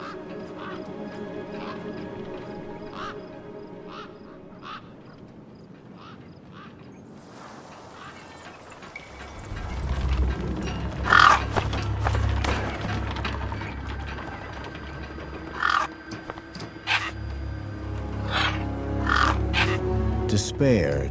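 Scavenger gang birds caw in a wasteland in the game Beyond A Steel Sky. Scattered harsh caws sound at moderate distance, first over a quiet bed, then over a low rumbling ambience with more frequent, louder calls.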